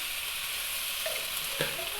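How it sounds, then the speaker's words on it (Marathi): Thalipeeth dough, a flat round dhapata, sizzles on a hot tava with a steady, close frying hiss that holds evenly throughout, with no talk. "याला धपाटा आपण तव्यावरती घालून घेणार आहोत तवा तापलेला आहे"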